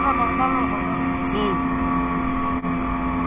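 A speedboat engine drones loudly and continuously on the water on a tourist ride in Odisha. The tone stays steady throughout with a faint pitch wobble as the throttle is held.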